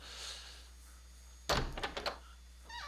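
Door unlocking and swinging open on a train in Resident Evil 0: a sharp clunk followed by a few quick rattling knocks and thuds, close and fairly loud, then a faint tonal game chime.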